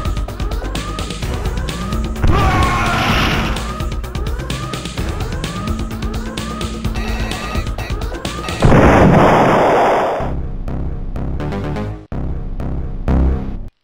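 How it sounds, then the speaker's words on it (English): Enemy ship cannon fire in the space combat game Star Control 2: a loud, rapid string of rising electronic zaps repeating at an even pulse, then a harsh crackling burst and a few scattered sharp hits. "Their cannon has some serious heat."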